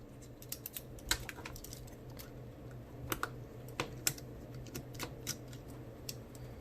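Small screws come out of a Motorola Razr V3 phone under a screwdriver, giving faint, close, irregular clicks and ticks over a quiet background hum.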